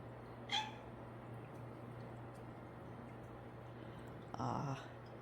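A cat meows twice, a short faint call near the start and a longer, clearer meow near the end, over a quiet backyard with a steady low hum.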